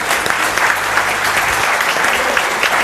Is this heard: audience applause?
yes